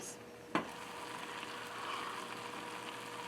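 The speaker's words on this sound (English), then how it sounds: "This has been simmering now for about 10 minutes, and it's well on its way." Apples simmering in a pan for oatmeal pancakes give a low, steady bubbling sizzle that holds throughout, with one sharp clink near the start.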